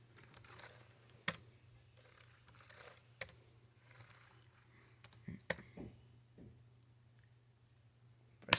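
Scattered computer keyboard clicks while a player works through a game of Oregon Trail, sharp isolated taps spaced irregularly and recorded close and fairly quiet over a steady low electrical hum.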